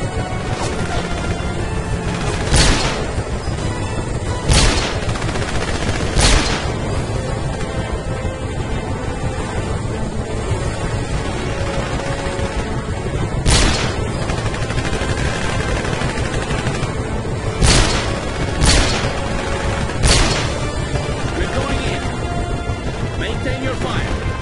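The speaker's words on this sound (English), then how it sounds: "James, take them out. Keep shooting, Jay." Gunfire and crashing impacts in the video game 007 Legends, repeated sharp shots and bursts over a constant loud din, with voices talking throughout.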